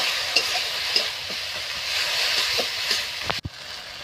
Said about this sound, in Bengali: সেটাকে দিয়ে এটাকে খুব ভালোভাবে নাড়িয়ে চাড়িয়ে নেওয়া হচ্ছে।